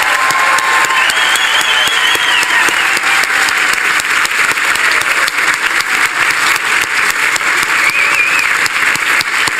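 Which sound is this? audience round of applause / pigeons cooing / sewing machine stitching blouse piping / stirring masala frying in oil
audience round of applause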